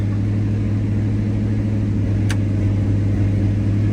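A 1970 Chevrolet Chevelle SS engine idles steadily with a deep, constant low rumble that stays even throughout, with no voices over it.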